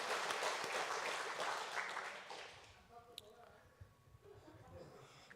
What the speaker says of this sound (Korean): 박수로 우리 격려 주시면 감사하겠습니다